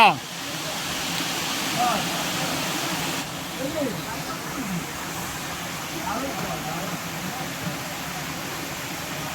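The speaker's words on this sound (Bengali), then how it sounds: "কি ঝর্ণা, কি ঝর্ণা বেরোচ্ছে দেখো" A waterfall in an Odisha forest gives a continuous roaring rush of falling water, broad and steady throughout, with a few faint voices underneath.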